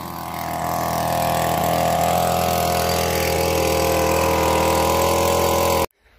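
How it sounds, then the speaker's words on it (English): Small gasoline engine driving a drywasher blower runs steadily while gold prospecting in the desert, a loud continuous mechanical drone with a slight uneven wobble in its tone, then it cuts off abruptly near the end. "the blower was making funny noises, so I went over there and adjusted the choke a little bit"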